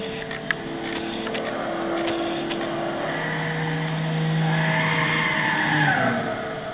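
Mitsubishi Eclipse GT 3.8 V6 in Gran Turismo 6, engine droning steadily in sixth gear with a rising tone and faint tire noise, moderately loud and continuous.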